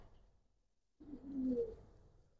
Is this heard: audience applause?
no